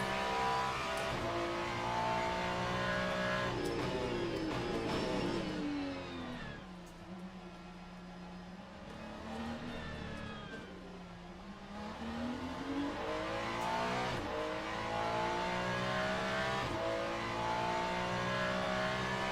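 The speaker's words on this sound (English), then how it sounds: "the Ferrari sounds better in this game than it does in ACC" A Ferrari race car engine in the video game Le Mans Ultimate, on track at Monza or Bahrain, revving hard through rising gear pulls, easing off briefly on downshifts, then climbing again, steady and close.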